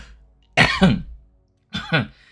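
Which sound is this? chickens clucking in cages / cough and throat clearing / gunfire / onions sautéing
cough and throat clearing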